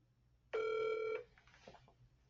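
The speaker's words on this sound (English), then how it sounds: "So I'm going to go ahead and make a phone call on my phone." A phone call rings on speakerphone: a single loud electronic ring tone lasting about half a second, followed by faint clicks and line noise.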